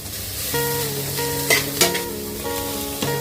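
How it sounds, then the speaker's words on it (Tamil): Beans, carrot, green peas and onion sizzle in a hot pan, with a few sharp stirring knocks and scrapes over the steady frying hiss and no voices. "சும்மா ஒரு 2 நிமிஷம் அதை வதக்கி விட்டுக்கோங்க"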